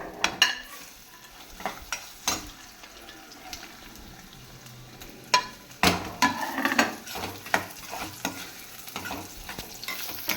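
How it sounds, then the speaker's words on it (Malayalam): Grated coconut dry-roasting in a pan for lentil payasam, with irregular scraping strokes and clinks over a soft sizzle, close up and no talking. "ഇനി നമുക്ക് തേങ്ങ വറുത്തെടുക്കാം"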